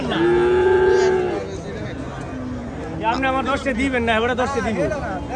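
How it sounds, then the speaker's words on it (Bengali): Beef bulls mooing at the Chandimura cattle market in Cumilla, a long low moo early on, then a busy stretch of overlapping calls and crowd chatter with people talking nearby. "সব মাংসের ষাঁড় গরু, প্রচুর গরু, তাই না ভাই?"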